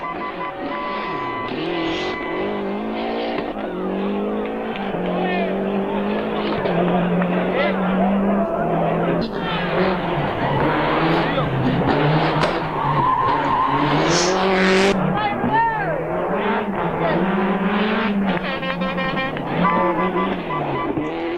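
Group A rally cars race on a tarmac stage, engines revving hard with tires skidding and squealing through corners, loud and continuous, while someone talks over the action.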